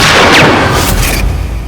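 A single gunshot from Daljeet Singh's gun on a Lohri night, one sharp loud blast at the start that rings out and decays over a second or so, with no talk.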